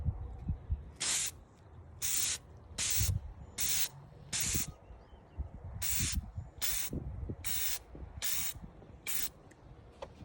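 Aerosol acrylic sealer sprayed onto a glitter-coated tumbler in about ten short, sharp hissing bursts with brief gaps between them, close to the listener and with no speech.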